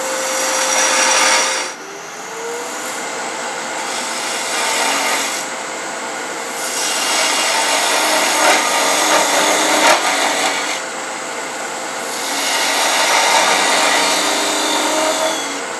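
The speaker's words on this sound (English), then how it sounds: "let's just take a 3/8 inch spindle gouge" A 3/8 inch spindle gouge cutting into a wooden workpiece spinning on a lathe, a close, loud, continuous rasping whir in long passes with brief pauses between cuts.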